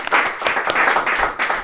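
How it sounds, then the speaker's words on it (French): Applause from a small gathering bursts out loud and close, a steady patter of hand claps lasting under two seconds. "On l'applaudit Max."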